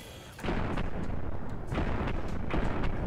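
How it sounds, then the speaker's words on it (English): Gunfire from convicts in Fallout: New Vegas, with a low ambient rumble that gives way to loud, repeated booming shots at irregular intervals, close and heavy with no talking. "Somebody's real close shooting us."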